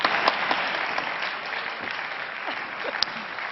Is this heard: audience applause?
yes